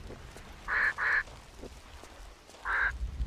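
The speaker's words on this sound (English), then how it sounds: "it's crows!" Cawing bird calls in the video game Tomb Raider, three harsh calls: two close together near the start and one more a moment later, fairly loud over a quiet low ambient background.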